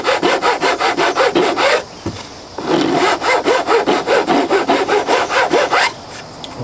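A rasp and file shape the wooden body of a cheap Telecaster-style guitar kit in close, rhythmic back-and-forth scraping strokes. The strokes pause briefly near the two-second mark, then resume steadily.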